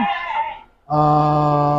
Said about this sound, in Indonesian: lokasi di mana banyak kambing